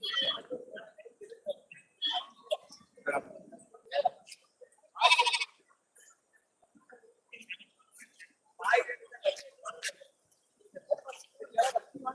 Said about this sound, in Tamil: நல்ல ரெண்டு குட்டி ஆடு